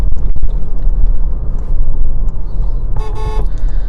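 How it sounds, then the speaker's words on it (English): A Toyota Hilux 4x4 horn gives a short, loud blast of just under half a second, heard over steady road and engine rumble. "The horn is of typical Toyota."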